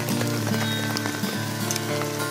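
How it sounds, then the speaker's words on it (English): Hail pelts a tent hard and continuously, a dense, loud drumming patter of countless impacts on the fabric with no voices. "Holy hail, it's coming down."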